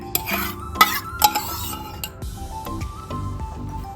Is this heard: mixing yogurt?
yes